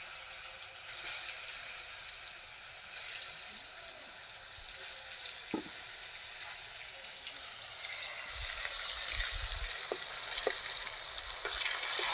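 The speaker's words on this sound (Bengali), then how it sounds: "বেগুনগুলো ভাজা হয়ে গেছে, তুলে নেব।" Eggplant slices frying in hot oil give a steady, close, bright sizzle that continues without a break, with a few faint clicks and low knocks underneath.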